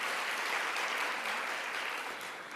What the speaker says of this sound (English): We have a round of applause for them.